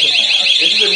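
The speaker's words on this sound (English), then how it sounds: "What are these alarms?" A loud fire alarm blares in one continuous shrill tone, close and unbroken for the whole moment.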